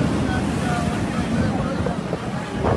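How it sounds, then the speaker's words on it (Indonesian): Strong storm wind roars continuously and loudly across the microphone near Masjidil Haram, a dense buffeting rush with no clear breaks. "Anginnya kencang sekali, nah sampai-sampai batasnya sampai ikut terseret angin."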